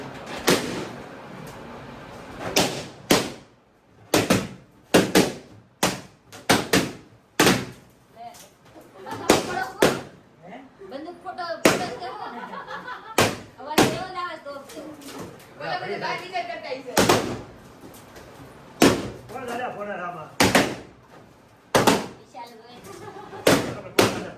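Balloons burst in a contest over who can pop the most. Many loud, sharp pops come in quick irregular bursts, with excited voices talking and calling between them.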